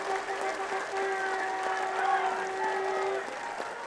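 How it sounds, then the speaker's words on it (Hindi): A large crowd at a BJP political rally in Meerut applauds steadily for several seconds, dense continuous clapping with a sustained tone underneath, fading slightly at the end. "तालियों की गड़गड़ाहट से हमारे राष्ट्रीय अध्यक्ष का हार्दिक अभिनंदन किया जाना चाहिए"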